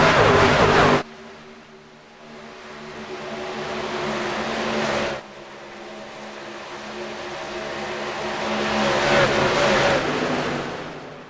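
Race truck engines roar past at the Auto Club track in an iRacing sim race, loud engine drones rising and falling in pitch with a sharp cut and a fresh flyby swell.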